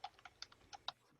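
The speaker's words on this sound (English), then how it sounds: "I think two people were typing in that box." Several crisp computer keyboard keystrokes in a quick, uneven burst, close and fairly quiet, with no voices.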